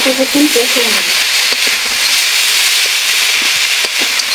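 Boal fish curry boils in a pan after water is added to the fried spice mix. A loud, continuous bubbling hiss and sizzle runs throughout, with a few soft knocks, and a voice speaks briefly at the start.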